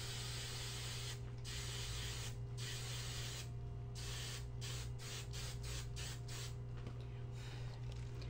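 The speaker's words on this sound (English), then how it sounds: "So I'm gonna spray this really quick" Hairspray sprayed outdoors over inked woodgrain to seal it, a series of short hissing bursts, a few longer ones then several quick spurts, over a steady low hum.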